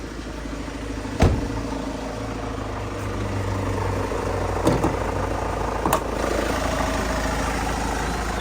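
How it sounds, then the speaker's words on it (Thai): A 2012 Hyundai H1 2.5 van with a factory-original engine settles into a smooth, steady idle after starting, a low continuous hum with a few brief clicks and knocks on top. "เครื่องสตาร์ทง่ายเสียงนิ่มนะครับ สตาร์ทเรียบร้อยนะ"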